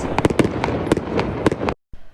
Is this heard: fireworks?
yes